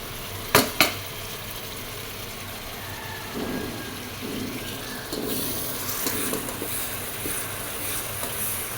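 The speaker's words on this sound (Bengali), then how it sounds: "মাংসটা ভাজা ভাজা করে নিই, পেঁয়াজটা ভাজা ভাজা করে নিই।" Steady sizzling hiss of beef and onions frying in a pan, with a couple of sharp clicks early on and no talking.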